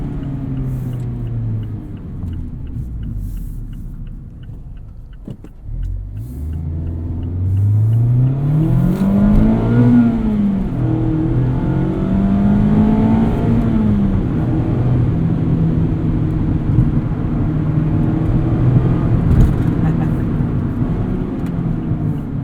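A 2020 Mazda MX-5 Miata Club manual convertible accelerating on the road, its engine note climbing and falling through gear changes, then settling into a steady loud drone, with no talk over it.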